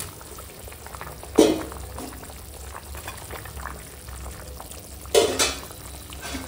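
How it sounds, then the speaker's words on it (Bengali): Fried catla fish slid into a bubbling Bengali curry broth, a steady low simmer broken by two sharp sizzling splashes as pieces drop in, close and without talk. "এখন ঝোলে জাল উঠে গেছে, আর দিয়ে দেবো এই ভেজে রাখা মাছ।"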